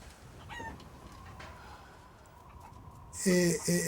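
A chicken in the video game Resident Evil Village clucks in short bursts near the end, over faint game ambience with a few scattered chirps earlier.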